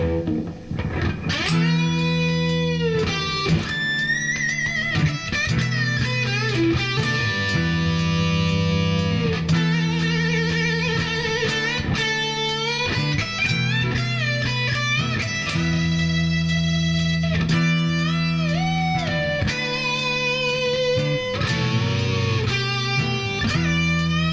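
A continuous distorted electric guitar solo with sliding, bending notes over a sustained low backing, played loud and unbroken throughout.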